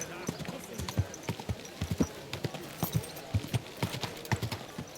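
Horse hooves clip-clop at a steady walking rhythm in the medieval game Kingdom Come Deliverance 2, close and distinct, with a voice talking over them.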